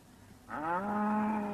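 A single long cow moo rises from quiet and holds steady for about a second, fairly loud and close, with no talk over it.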